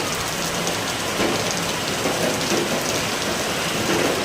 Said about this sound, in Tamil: மழையை பாரு,